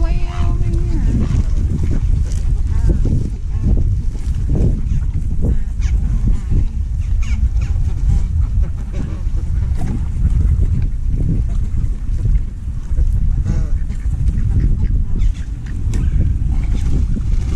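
Ducks and geese honk and quack at a lake where birds are being fed, calls scattered throughout under steady wind and nearby conversation, with the birds fairly close but mixed into the outdoor noise.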